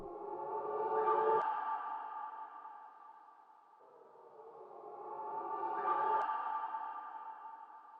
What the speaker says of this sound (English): Now let's just hear this one, which is the reverse tri-freeze sample.